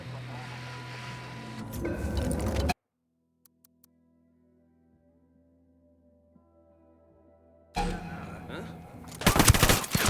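Gunfire in the video game Ghost Recon Wildlands comes as loud rapid bursts at the start and again at the end, separated by a long near-silent stretch with faint ticks.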